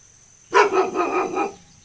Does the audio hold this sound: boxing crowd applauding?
no